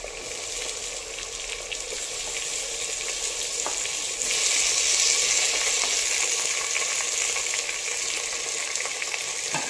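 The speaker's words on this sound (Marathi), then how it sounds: "आता टोमॅटो इथे आपल्याला 2 ते 3 मिनिटं परतवून घ्यायचं आहे." Chopped tomatoes and potatoes sautéing in a hot pan for pavta bhat, a continuous bright sizzle that grows louder partway through, close up with no talking.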